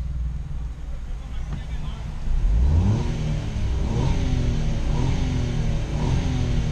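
A Hyundai HB20 Evolution 1.0 economy car with an exhaust diffuser and switchable exhaust valve revs up close by, rising from idle into repeated throttle blips with a steady engine drone, while someone talks over it.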